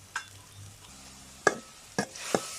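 Onion and garlic fry in a pan as ground turmeric, cumin and chili are added. A low bubbling sizzle runs underneath, broken by three sharp scraping stirs of a spoon against the pan, close up and with no talking.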